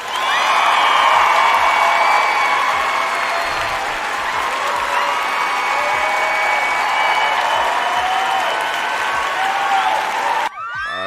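Applause from a crowd, a dense, steady clapping roar sustained for about ten seconds with a few faint whoops mixed in, ending abruptly.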